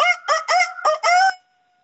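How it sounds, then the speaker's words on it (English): Rooster crowing: one loud, close cock-a-doodle-doo broken into several strained syllables, ending abruptly into quiet. "that rooster cries out."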